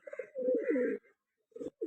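Pigeons kept in a home loft coo close by, a soft low burbling coo followed by a brief quiet gap and more short coos, faint and with no other sounds.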